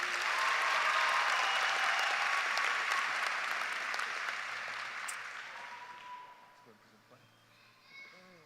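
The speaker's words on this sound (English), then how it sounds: "Let's give her another round of applause." A large crowd applauds at a high school graduation ceremony, a loud dense roar of clapping that gradually fades over several seconds, leaving quieter voices and a few scattered sounds at the end.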